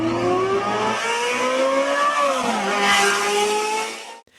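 A racing car speeds past with a loud, continuous engine whine that rises and then drops in pitch, with a hint of tire noise, heard alone without speech.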